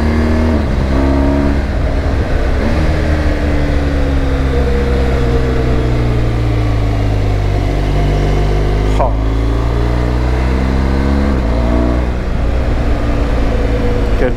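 BMW R1200GSA motorcycle engine while riding on autumn country roads: a loud, close, continuous boxer-engine drone with rising and falling pitch as revs change, wind rush over it throughout.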